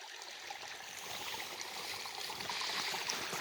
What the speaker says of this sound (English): It's this small little creek.